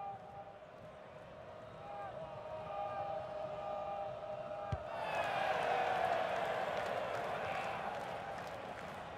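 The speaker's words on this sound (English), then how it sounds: "the crowd have got a bit fed up with this match, embarking on a Mexican wave" Stadium crowd at a Columbus Crew versus Atlanta United football match at Crew Stadium, swelling into a broad roar mid-clip as a Mexican wave passes, loud and continuous with a faint tonal hum underneath.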